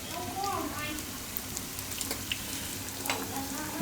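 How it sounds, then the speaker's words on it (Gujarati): Raw mango pieces cooking in hot oil give a low, even sizzle with a few faint pops and light scraping, close and fairly quiet throughout. "કેરીને થોડીક વાર તેલમાં પકાવી લેવું 1 થી 2 મિનિટ"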